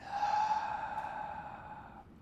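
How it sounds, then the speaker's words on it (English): During a yoga session, one long breath is exhaled out through the mouth, soft and close, slowly tapering away over about two seconds. "Exhale out the mouth."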